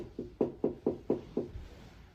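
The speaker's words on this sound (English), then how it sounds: "An heard a gentle tapping on his bedroom door." Six gentle, evenly spaced knocks tap on a bedroom door, close and soft, each a muted hollow thud, followed by quiet.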